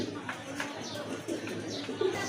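A pair of pigeons at a bird sale give soft low coos close by, a few murmuring calls rising over a faint background hum.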